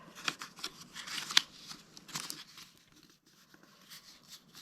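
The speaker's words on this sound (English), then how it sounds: "So I'm going to flatten these" Cardboard tubes are pressed flat by hand, giving faint, close crinkles and creasing crunches in short, irregular bursts.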